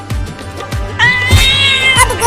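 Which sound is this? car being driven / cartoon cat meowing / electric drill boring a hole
cartoon cat meowing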